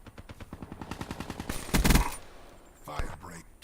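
SMG fire in a first-person shooter, heard as a rapid run of evenly spaced shots for about a second and a half, then a louder blast and a later single report, all fairly quiet in the game mix.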